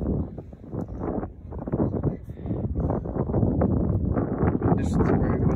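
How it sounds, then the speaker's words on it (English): Gusty wind buffeting the microphone outdoors while fishing, rough and loud, rising and falling in bursts throughout. "This is very windy out here."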